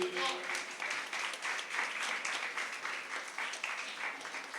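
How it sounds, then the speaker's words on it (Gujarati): An audience at a talk session clapping for the speakers: sustained, even applause from a crowd, moderately loud and close, with faint voices mixed in beneath the clapping. "આપણે સૌ તાળીઓના ગડગડાટથી વધાવીશું"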